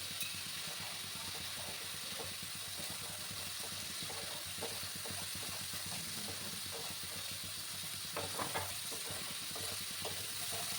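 Ginger and green chili paste sautéing in a pan for a spicy Bengali wallago fish curry, a steady soft sizzle with scattered stirring scrapes and clicks throughout, fairly quiet and without talk.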